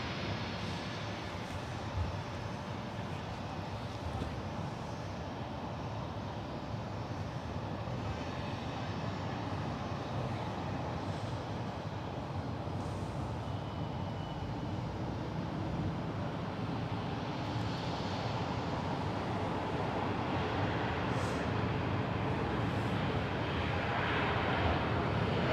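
Steady, distant jet roar of airliners around San Jose Airport, a broad continuous rumble lasting throughout with slow swells in loudness and no voices.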